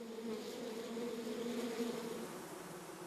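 Honey bees buzzing inside a hive, a steady dense drone of many wings holding an even pitch for the whole stretch, close and continuous with no voices.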